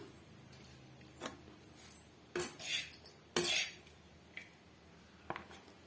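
A spoon scrapes and clinks against a pot or plate in a few separate strokes while serving carrot rice, with quiet pauses between.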